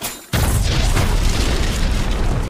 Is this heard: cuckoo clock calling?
no